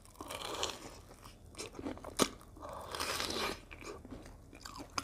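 Crisp, loud crunches of someone biting and chewing batter-fried durian, its crunchy fried coating crackling in several close bites, with one sharp snap standing out partway through.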